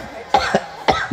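Two coughs from a person during a religious lecture in Aceh, each a sharp burst followed by a quick second catch, close and clear with no talk over them.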